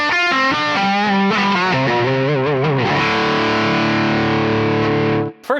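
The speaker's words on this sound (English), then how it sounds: "Let's hear what this amp sounds like, that familiar Mesa roar." Heavily distorted electric guitar through a Mesa amp plays a short riff of several notes, then rings out on a sustained chord before cutting off abruptly.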